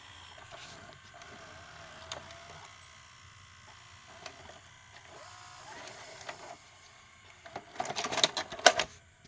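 Mechanism of the last stand-alone VCR ejecting a tape, faint whirring motor and soft mechanical clicks building to a louder burst of clattering and whirring near the end, close and without talk.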